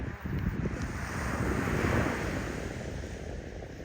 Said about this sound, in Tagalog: Andres, dito tayo sa tabing dagat.